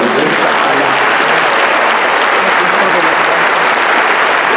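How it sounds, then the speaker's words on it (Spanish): Audience applause for a Jewish community welcomed at a Christian church gathering, steady dense clapping filling the room throughout, with voices faintly mixed in. "Un aplauso para toda la comunidad judía."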